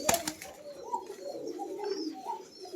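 Pigeons at a farm give soft, throaty coos, several overlapping low calls close by, opening with a few sharp wing-flap or knocking sounds.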